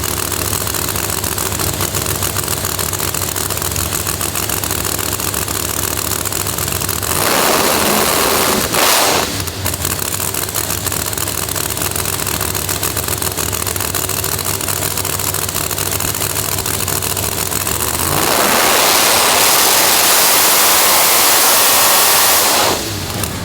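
Big engine of a Chevelle no-prep drag car running steadily at a loud idle, then revving up hard twice, with a brief drop and a final strong rev near the end, close to the microphone.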